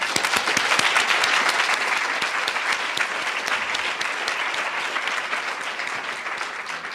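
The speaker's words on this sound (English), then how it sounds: "I wonder if we might all applaud them now" An audience at a New School public talk applauds warmly and steadily for several seconds, many hands clapping in a dense, even roar that fades only slightly toward the end.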